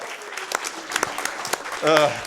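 A crowd at a live gaming event claps in scattered, uneven bursts, with a voice speaking briefly over the applause near the end.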